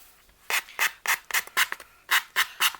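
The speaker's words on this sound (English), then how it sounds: "I think I'm going to sand this down just a smidge and get that blue off." Blue paint is sanded off an altered board book in short, crisp strokes, about nine rhythmic scratchy rasps close up, each stroke separated by a brief pause, with no talking.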